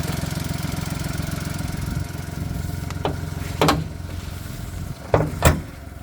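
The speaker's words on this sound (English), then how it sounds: "3-cylinder VW engine" A three-cylinder VW car engine idles close by with an even, low, pulsing thrum, and a few sharp clicks and knocks sound over it.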